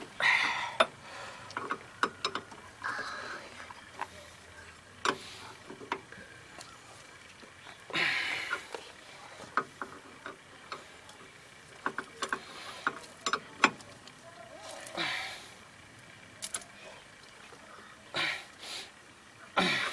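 A tie rod nut on a Hyundai Accent is tightened with a ratchet wrench, producing irregular bursts of close, clicking ratchet ticks with short pauses between them.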